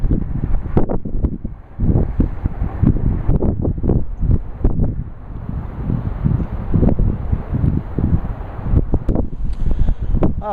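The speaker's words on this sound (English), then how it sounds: "A lot of wind today, so I've got you sort of out of the wind." Gusty wind by San Francisco Bay buffets the microphone with a steady, loud rumbling roar, broken by lumpy bursts of blowing and buffeting.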